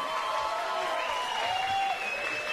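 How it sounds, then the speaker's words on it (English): Fight-night crowd at an MMA event applauding and cheering between bouts, a dense continuous roar of clapping with a tonal hum running through it, steady throughout. "how about a round of applause for the fights thus far?"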